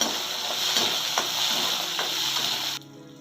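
Chopped onion, chilies and tomato fry lightly in a pan for a spicy potato and mushroom dish, giving a steady, close sizzling hiss with faint stirring knocks before the sound cuts off abruptly.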